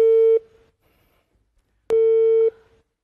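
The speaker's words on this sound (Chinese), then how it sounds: "我现在打电话给王美丽，我开着免提行不行？" Two long, steady telephone tones come through a speakerphone during an outgoing call, each lasting about half a second, separated by a silent gap, clear and close.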